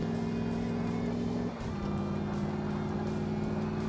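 A Corvette engine in Car Mechanic Simulator 2015 holds a steady, droning rev with a brief dip partway through, then settles back into a constant hum, and no one talks.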